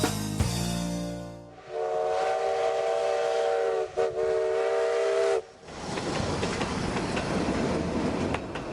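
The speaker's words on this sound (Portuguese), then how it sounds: "Estas imagens são de um raro passeio de trem entre a cidade da Lapa e Curitiba." A passenger train on the line between Lapa and Curitiba: a loud whistle blasts, then a sustained horn tone sounds over a rumbling run, followed by the steady clatter of the moving cars.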